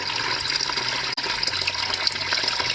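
Water pours and splashes steadily from the transmission of a Massey Ferguson 35 Turf Special tractor, a continuous gushing drain with a brief break partway through.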